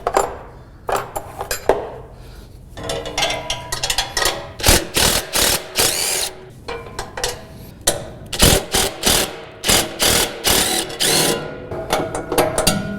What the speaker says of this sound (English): we need to go ahead and break out that 13mm wrench.